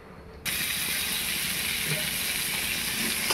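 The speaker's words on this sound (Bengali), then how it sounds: "নুন হলুদ দিয়ে হালকা করে ভেজে নেব আলুগুলো।" Potato pieces frying lightly with salt and turmeric in a pan for an Indian-style pork curry, a steady close sizzle that begins abruptly after a brief quiet start and continues evenly to the end.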